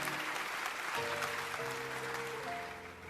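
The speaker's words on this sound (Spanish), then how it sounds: "Denle un aplauso." An audience applauds at a public forum welcoming former presidents of Croatia and Poland, a sustained, fairly distant wash of clapping that continues throughout while some faint tonal sounds rise within it.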